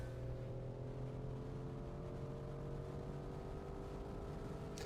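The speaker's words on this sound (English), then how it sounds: "the sound sounds really good, like a pretty low revving, quiet V16 sounds really handsome" A quiet, low-revving V16 engine on a sport luxury car in the Automation/BeamNG driving game drones steadily and evenly for the whole stretch, with no talk over it.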